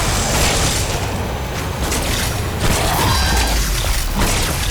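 Shotgun fire in a first-person shooter, heard as dense, loud booming blasts and mechanical clatter running continuously with no clear gaps between shots.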